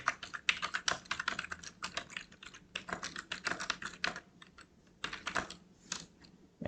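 Rapid, uneven keystrokes from a computer keyboard as C code is typed, clattering in irregular bursts with brief pauses, close and fairly clear with no voices.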